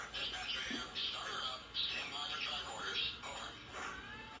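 Crew-talk radio effect from a Lionel toy train: crackly, band-limited voices chatter back and forth like a radio exchange, fairly quiet.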